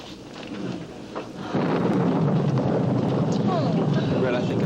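A thunderstorm with rain from a hurricane, a moderate roar that jumps to a loud, steady wash of rain and rumbling thunder partway through.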